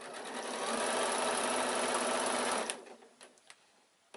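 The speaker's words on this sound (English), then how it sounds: "I'm now just going to sew down the long edge" A sewing machine runs steadily for about two and a half seconds, stitching down the long edge of a quilted evening bag, then stops, leaving a few faint clicks; close and loud, with no talking.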